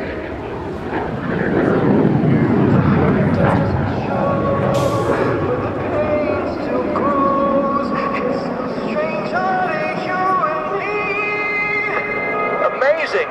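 A MiG-17PF jet fighter flies at an airshow evening display in London, its deep engine roar building and then fading into the distance while a voice talks over it.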